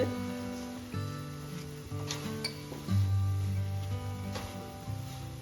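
Coconut and jaggery filling for dudh puli pitha being cooked in a pan, with a soft sizzle and intermittent stirring scrapes, heard close beneath steady background tones.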